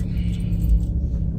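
A car engine idles with a low, steady rumble, close by, as the vehicle is parked beside a trailer, with no talk over it.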